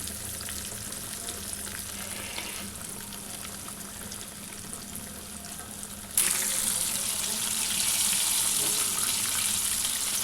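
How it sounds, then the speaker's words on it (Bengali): Chicken wings for a KFC-style recipe frying in oil over medium heat, giving a steady, close crackling sizzle that jumps noticeably louder and brighter partway through and stays that way. "আমি আমার ফ্রাইগুলো তেলে দিয়ে দেব এবং মিডিয়াম আঁচে ভাজবো"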